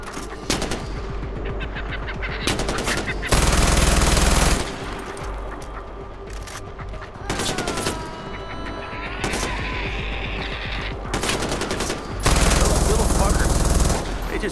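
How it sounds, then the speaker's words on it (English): Automatic gunfire in the video game Far Cry 4 while shooting at a badger, loud bursts of rapid shots in several long volleys with short pauses between, close and dominant, with brief voices in between. "Shoot it now!"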